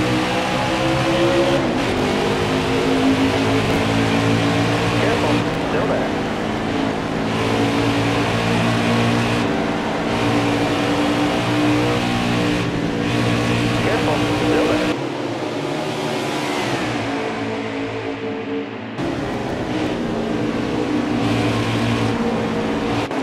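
Field of NASCAR stock cars roaring off at the green flag at Dover in a racing game, a loud dense engine drone with rising revs and shifting gear changes, heard under a commentator's talk.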